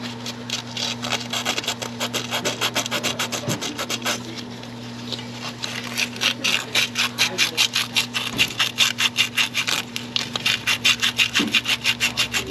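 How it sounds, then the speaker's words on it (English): Emery cloth rubbed over a car pipe in quick, close, rhythmic strokes, a dry scratchy rasp that starts softer and grows into a fast, even back-and-forth, over a steady low hum. "Give it a good polishing."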